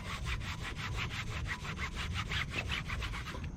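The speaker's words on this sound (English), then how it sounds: "I'm just going to scrub it in to all these letters" A brush scrubs cleaner into the raised sidewall lettering of a Ford Focus ST tire in quick, even back-and-forth strokes, a close, brisk rasping rhythm of about a dozen strokes with no talk.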